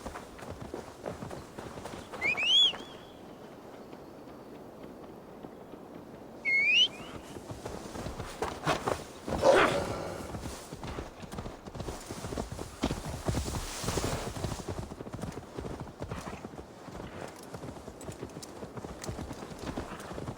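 Horse hooves clip-clop in a steady walking rhythm in Assassin's Creed Valhalla, close and fairly quiet, with two brief whistle-like calls early on and soft ambient game noise underneath.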